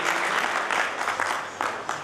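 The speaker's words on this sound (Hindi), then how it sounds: "जोरदार ताली बजा करके" A crowd at a political rally in Uttar Pradesh claps loudly and continuously. The dense applause rises and falls in waves with no break.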